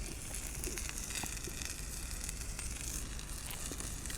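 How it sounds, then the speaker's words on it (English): A sausage sizzles outdoors in a peaceful Lake District spot, a steady faint crackling hiss with small pops, continuous and alone with no talking. "The loudest thing here now is me and the sizzling of that sausage."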